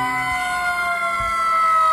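A toy fire truck siren wails steadily and loudly, its electronic tone gliding slightly in pitch over a faint low rumble.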